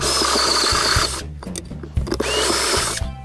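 A power drill with a step bit enlarges pilot holes in a small 1590B-style enclosure, whining loudly in two close bursts separated by a brief pause, with rough cutting and grinding through each run.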